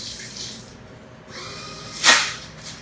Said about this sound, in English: Rinse the apple off.